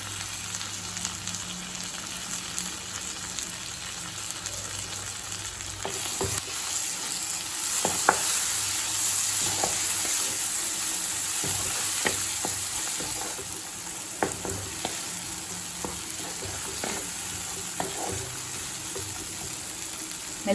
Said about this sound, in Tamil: மிளகாத்தூள் வாசனை போக 1 நிமிஷம் வரைக்கும் வதக்கியாச்சு.